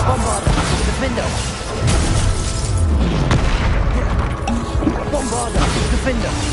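Repeated Bombarda spell blasts in Hogwarts Legacy combat, heavy booming explosions and crashing impacts layered densely over several seconds amid chaotic battle noise, with shouted spell names in between.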